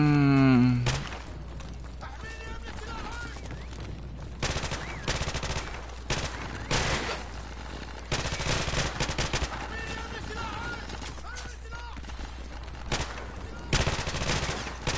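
Video-game gunfire comes in scattered bursts, some loud and close, others fainter, under game music and someone talking casually.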